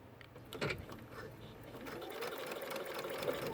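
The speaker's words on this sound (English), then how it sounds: "the fabric will ride under this side and help hold the pipe cleaner in place as we sew" A sewing machine runs steadily, stitching fabric with a pipe cleaner tucked into it for a washable face mask; a soft motor whir builds after a brief handling clatter and holds close and even.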